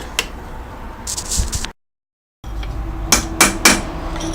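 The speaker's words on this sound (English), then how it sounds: "So just sort of hit the punch on the inside there, and that'll just go on nice and easily." Several sharp metallic hammer blows on a punch fitting a connector sleeve on a ZF 6HP26 / 6R60 automatic transmission, a few single strikes then a quick cluster of three, loud and close, with a brief silent gap.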